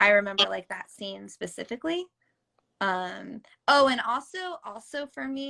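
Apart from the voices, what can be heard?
None of the usual background noises is heard.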